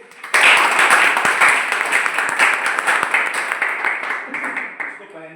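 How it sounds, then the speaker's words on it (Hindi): A group claps together during a breathing apparatus (SCBA) training session, steady dense applause lasting several seconds, close and loud, tapering slightly near the end. "सब लोग को तालियां बजाइए"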